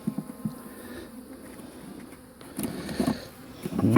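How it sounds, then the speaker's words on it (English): Bees buzz faintly around an old hive with no queen, a soft uneven hum with a few louder passes building toward the end, and no voices. "I guess these are really old bees."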